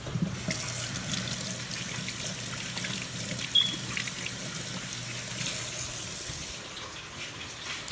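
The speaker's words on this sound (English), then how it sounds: "Let me come over here and rinse off my hand." Hands rinsed under a running kitchen tap, a steady splashing stream for several seconds that stops near the end, heard close with no talk.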